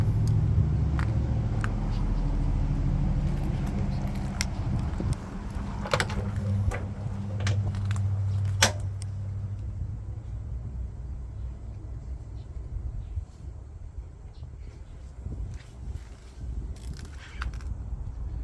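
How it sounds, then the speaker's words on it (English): A 1965 Ford Mustang coupe with a 289 V8 and single exhaust idles steadily with a mellow, low rumble, close by and continuous, with a few light clicks and knocks on top. "This car has single exhaust, quite the mellow, easy tone."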